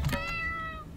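A single short cat meow, clear and close, from the video game Rakuen, set in a hospital.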